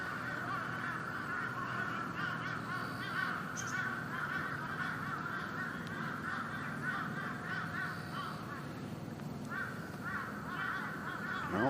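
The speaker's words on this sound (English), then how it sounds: "Well, the birds are chirping," Crows cawing and other birds calling faintly in the background on a golf course during a professional amateur golf championship, steady outdoor ambience with repeated distant calls.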